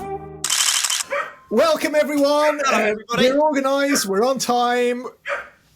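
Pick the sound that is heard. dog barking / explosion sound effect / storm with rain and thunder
dog barking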